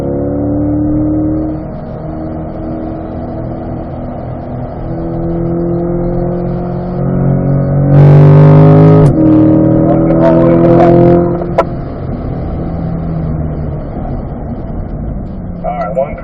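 A C8 Corvette engine at full throttle on the Spring Mountain track, its harmonic drone climbing through revs with a surge in the middle, close and loud, with a voice talking over it.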